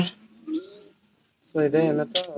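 A stray pigeon with an eye problem gives low, soft coos close by, broken by a short pause, with a human voice mixed in.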